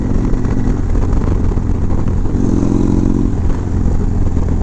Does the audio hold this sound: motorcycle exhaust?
yes